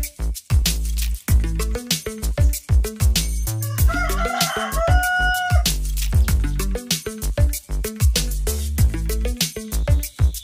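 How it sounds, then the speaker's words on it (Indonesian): A Pelung rooster crows in long, drawn-out calls, loud and close, mixed with clucking and other fowl noises in a busy poultry yard; no speech. "pilih yang suara kokoknya mengalun panjang"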